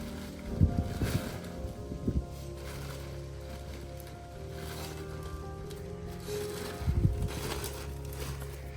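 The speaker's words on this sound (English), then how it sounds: "and it is very windy." Wind rushes and buffets against the microphone outdoors in a garden in uneven gusts, with a few louder rumbling bursts over a steady low roar.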